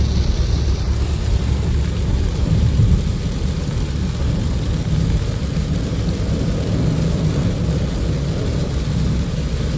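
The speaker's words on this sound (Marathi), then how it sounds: "समोर पाऊस चालू आहे, त्या पावसात ड्राईव्ह करतोय" Steady heavy rain drums against a moving vehicle, blended with a constant low road and engine rumble, loud and unbroken throughout.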